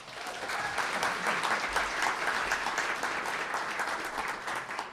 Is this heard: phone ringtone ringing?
no